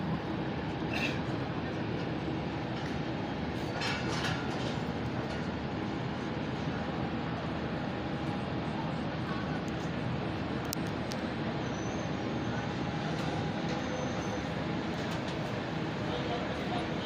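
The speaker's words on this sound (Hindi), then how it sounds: "16 डाउन कराची एक्सप्रेस रवाना हो रही है खानेवाल जंक्शन रेलवे स्टेशन से।" The Karachi Express pulls out of Khanewal Junction railway station in Pakistan, a continuous rumble and rattle of train cars rolling steadily, with a faint background of station noise.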